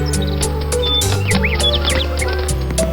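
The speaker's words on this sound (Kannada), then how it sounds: "ಹೇ ಚಿಲಿಪಿಲಿ ಚಿಲಿಪಿಲಿ, ನನ್ಗೂನು ಹಣ್ಣು ಕೊಡ್ತೀಯಾ?" A cartoon bird in a Kannada kids' animation chirps in quick, high, bouncy tweets over a steady musical background, the calls scattered rapidly and close.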